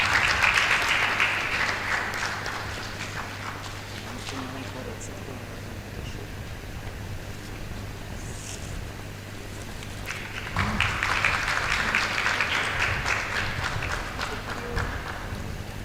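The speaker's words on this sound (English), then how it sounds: "A big round of applause, everybody." An audience at a national trial advocacy final round claps at length to welcome a judge. The dense applause swells at the start, eases through the middle and rises again near the end, with a steady low hum running underneath.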